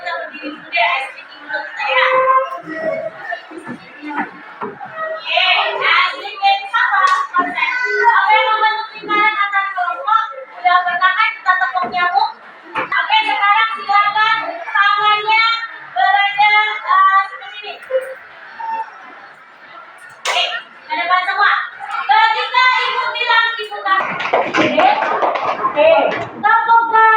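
Classroom ice-breaking game in which students clap their hands on cue. A few sharp, scattered claps stand out under a teacher's continuous instructions and children's voices.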